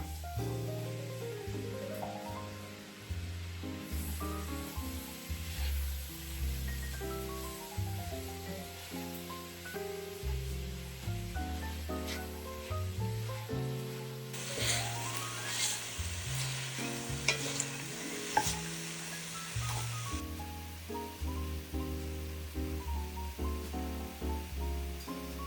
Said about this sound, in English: In the same pot, add the onion, the carrots, the parsnip, and the turnip. Saute these for about 5 minutes until they start to soften.